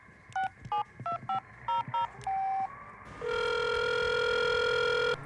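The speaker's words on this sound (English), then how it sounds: "so we're going to give him a call" Phone being dialed in the GTA role-play video game: about nine quick touch-tone beeps in an uneven rhythm, then a short pause and a steady ringing tone, clear and close.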